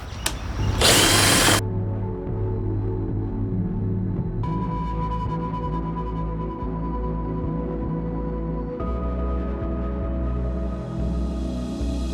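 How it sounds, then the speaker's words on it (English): A power drill bores holes into the wooden base of a DIY pedestal side table: a sharp opening burst, then a steady whirring motor whose pitch shifts as each hole is drilled. "I am drilling 4 holes on each side of the base of the pedestal"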